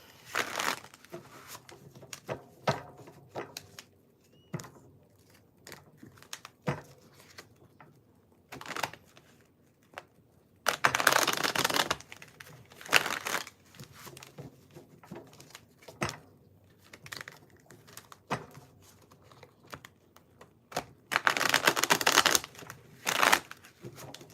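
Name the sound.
shuffling tarot cards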